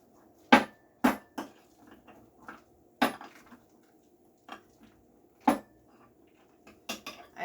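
Very ripe bananas are mashed with a masher in a bowl for banana muffins, giving sharp, close clacks and thuds of the masher striking the bowl at an irregular pace over a faint hum.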